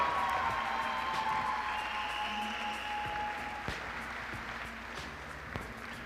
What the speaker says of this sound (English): let's give one more roaring round of applause for the Marian volleyball class of 2022